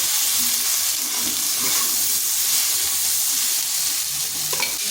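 Chopped ridge gourd frying on high heat in a pan for a vegetarian dish, with a loud, steady sizzle and hiss and the scrape of stirring running through, close by and uninterrupted.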